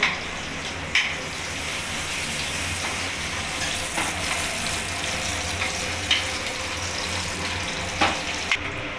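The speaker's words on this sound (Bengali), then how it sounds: "পটলগুলো লাল লাল করে ভাজা হয়ে গেছে" Pointed gourd pieces fry in a pan of oil with a soft, even sizzle, broken by occasional sharp pops and clinks, at moderate distance with no talk.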